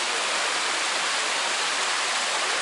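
Water rushes steadily at the top of a cascade in the 33 Waterfalls gorge near the sea. It is a dense, continuous roar with no talking.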